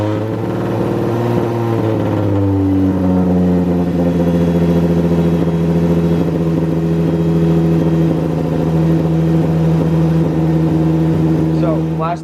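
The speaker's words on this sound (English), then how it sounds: "Last clip you heard the car running." A supercharged 3.7 V6 Ford Mustang engine runs steadily at close range, its loud, constant drone holding a firm low hum for the whole stretch with a brief rev near the start.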